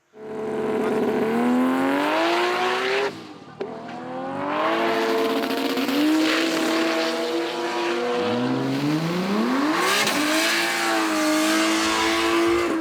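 A Holden Calais drag car roars down a drag racing strip, its engine rising in pitch through the gears with a brief lift between. The sound is loud and continuous and carries no voices.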